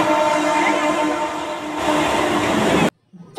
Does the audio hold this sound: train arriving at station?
yes